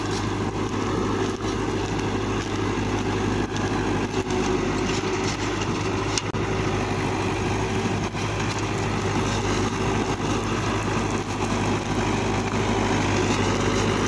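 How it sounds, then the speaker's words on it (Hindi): Mahindra 475 DI tractor, a 1997 model, ploughing deep with its diesel engine running steadily and loud throughout, a constant close drone with no pauses. "आप देख सकते हैं कितनी गहरी जुताई कर रहा है ट्रैक्टर"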